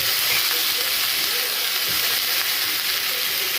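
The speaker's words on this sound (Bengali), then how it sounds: "আদাটা একটুখানি ভেজে সব তরকারিগুলো দিয়ে দেবো" Ginger fries in hot oil with a loud, dense, even sizzle that holds steady and close for the whole stretch before cutting off abruptly.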